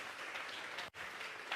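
Continuous applause from a church congregation, dense and even, with a momentary dip in the middle before resuming at the same level.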